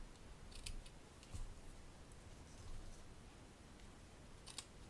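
Scissors trim cardstock for a handmade embossed card, making faint, close snips and crisp cutting clicks in a quiet room, with a couple of sharper cuts standing out.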